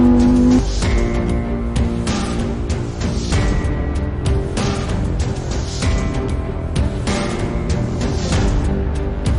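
A Lamborghini Huracán STO prototype driving on the Nardò test track in Italy, its engine roaring loud and continuous with shifting pitch and sharp breaks like gear changes.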